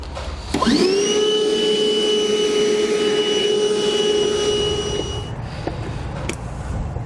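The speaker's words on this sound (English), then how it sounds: "we'll take our vacuum, we'll go ahead and clean up all those shavings" A vacuum cleaner cleaning up metal drilling shavings in a 2021 GMC Sierra truck bed whirs up to a steady, loud hum and runs continuously for several seconds before cutting off.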